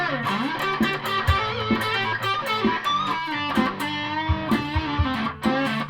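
Ibanez RC220 electric guitar through a Seymour Duncan P-Rails pickup switched to P90 mode, played as a steady run of strummed chords and picked notes with full, slightly driven tone, loud and alone throughout.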